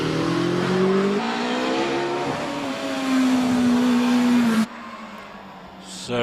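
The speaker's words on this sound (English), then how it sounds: "So these cars are competing in the up to 2-litre normally aspirated engine racing car class." A Swallow DR14 Formula 3 car with a 2-litre normally aspirated engine races uphill at the Prescott hillclimb, its loud, steady high-revving drone rising in pitch before cutting off abruptly, leaving quieter outdoor ambience.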